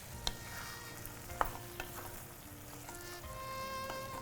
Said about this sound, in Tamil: இது வெந்துக்கிட்டு இருக்குது. இதை நல்லா கொஞ்சம் நடுவில் அப்பப்போ கிளறி விட்டுடணும்.